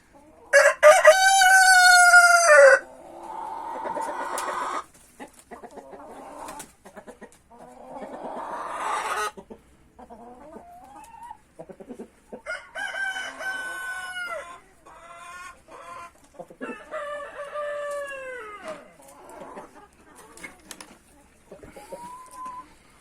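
Several roosters crow one after another. The first call is loud and near, and shorter crows and clucks follow from others, with a person speaking briefly in between.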